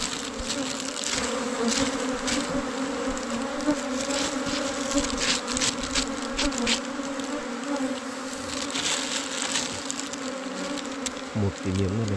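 Dense, continuous buzzing from a honey bee hive fills the air at a steady level, with individual bees droning close by.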